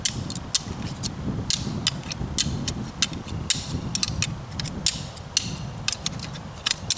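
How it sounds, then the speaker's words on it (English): Hard, clacking knocks of real deer antlers rattled together in quick irregular bursts over a grinding, scraping rumble, fairly close. "it just sounds like it's more dense when you're hitting with the real antler versus the fake"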